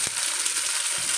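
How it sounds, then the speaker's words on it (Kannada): Small onions frying in a pan for mutton sambar, a steady broadband sizzle filling the whole short stretch, with a soft stir scrape near the start and another toward the end; no talk. "ಇದು ಚೆನ್ನಾಗಿ ಫ್ರೈ ಆಗಬೇಕು. ಈ ಥರ ಈರುಳ್ಳಿ ಚೆನ್ನಾಗಿ ಕೆಂಪಗಾಗಬೇಕು."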